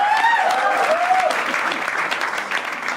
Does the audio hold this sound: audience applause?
yes